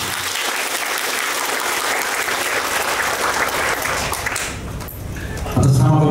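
Audience at a government ceremony in Sorong applauds steadily for newly appointed health workers, a dense, sustained wash of clapping that fades slightly before a louder burst near the end.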